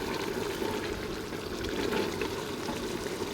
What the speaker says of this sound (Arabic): نزيدو الماء